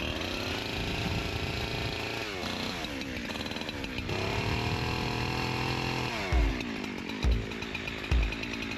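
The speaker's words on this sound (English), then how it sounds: "I got to cut some branches out of here so that I can drive through without being smacked in the face" A chainsaw cutting tree branches outdoors, its engine droning loud and steady with pitch shifts as it bites into the wood, then short bursts and revs near the end.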